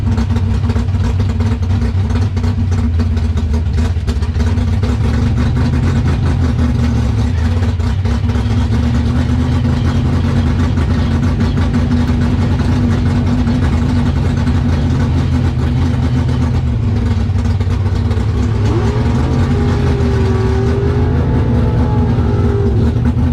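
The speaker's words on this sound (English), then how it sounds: "I just basically run at idle speed from the staging lanes up to the starting line" A 1956 Corvette drag car's engine idles with a loud, lumpy, steady rumble throughout, close up, with slight rev wavers near the end and no talk.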